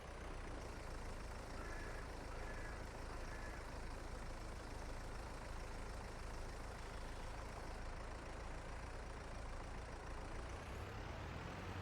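A truck held in low gear pulls a water trailer uphill, its engine giving a steady, heavy drone that runs unbroken the whole time, loud and close with no voices.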